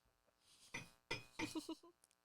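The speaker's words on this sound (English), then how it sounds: "I'm cheering my tequila glass." A tequila glass clinks against another in a toast, a few bright close taps and ringing chimes in quick succession, with faint voices around them.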